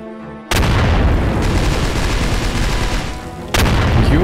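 Loud, dense blasts of combat in the video game Unturned erupt after a brief quiet moment, a sustained roar of booming fire, then a second heavy explosion hits near the end.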